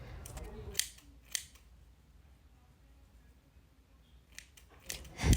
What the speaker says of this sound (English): Keep your scissors in the same position which I have aligned.